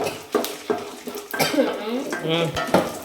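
Metal utensils clatter and scrape against a pan as food is stirred and sautéed, with a voice talking intermittently over the kitchen noise.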